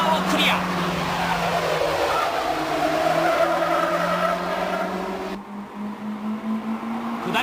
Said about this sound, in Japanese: 大井はスタートでホイールスピン、若干出遅れるがほとんど一緒に1コーナーをクリア。